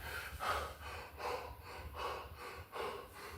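A man imitates heavy, ragged breathing after a fight, five rhythmic panting gasps repeating about every half second to second, fairly close and moderately loud, with no other talk.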